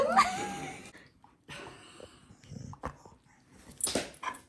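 A year-old puppy whimpers and whines in short, high, uneven bursts with quiet gaps between them, close by indoors.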